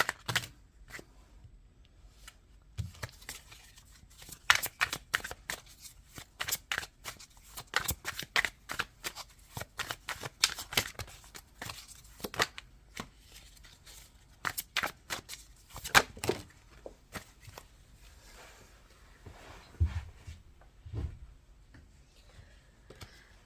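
A deck of tarot cards is shuffled by hand in rapid, crisp riffling bursts of flicks and snaps, close and clear, with short pauses between rounds.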